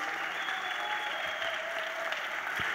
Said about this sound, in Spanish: Un gran, gran, gran aplauso.